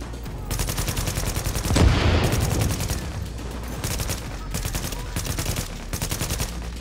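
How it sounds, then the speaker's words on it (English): Rapid bursts of gunfire in Tom Clancy's The Division, a shooter video game, with repeated automatic volleys and a louder blast near the middle, continuing throughout at steady loudness. "dude behind me started shooting me"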